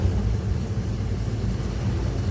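Heavy truck engine droning steadily from inside the cab, a continuous low rumble with no breaks, loud and close throughout.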